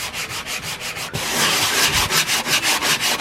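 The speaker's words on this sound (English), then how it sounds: "I'm gonna sand them and do a quick coat over them" Sanding over filled holes in a closet wall, heard as close, steady back-and-forth rubbing strokes in a quick repeating rhythm with no voices.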